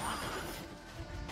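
Car crashing and breaking apart in a video game: a loud burst of smashing and grinding debris at the start that settles into a rougher, fading rattle.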